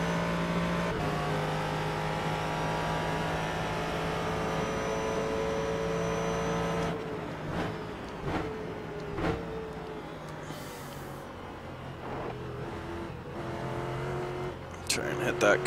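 A Ford GT3 race car engine in the iRacing sim at Sebring International drones steadily and then drops off as the car slows for pit entry, with shifts and revs. Someone talks over it.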